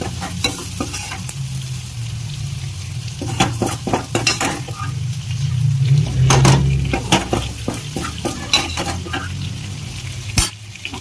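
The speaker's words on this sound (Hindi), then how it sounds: "अब इसे अच्छे से मिक्स करेंगे धीरे धीरे, ताकि कोई टिंडा टूट ना जाए।" Stuffed bharma tinda (round gourd) curry being stirred slowly with its spice tempering in a pan: repeated scraping and clinking strokes in irregular bursts over a steady, close sizzle.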